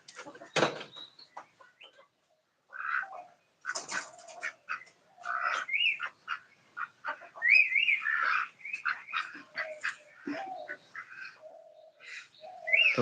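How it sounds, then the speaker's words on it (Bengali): Pigeons feed on paddy grain outdoors, with ducks nearby; intermittent bird calls, whistles and soft cooing come at close to moderate range in short bursts, with a voice partly present among them. "তো বাইরে কবুতর ধান খাচ্ছে একটু দেখায় দি"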